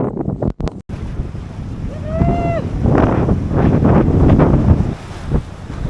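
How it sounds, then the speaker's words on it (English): Heavy wind buffets the microphone outdoors in Key West, Florida, in a continuous roaring rumble, with a brief whistling squeal partway through and sharp knocks at the start. "So I know it's windy, and you probably can't hear me very well"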